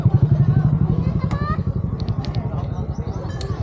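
A motorcycle engine idles nearby with a rapid, even thumping pulse, with people talking over it at a village fiesta.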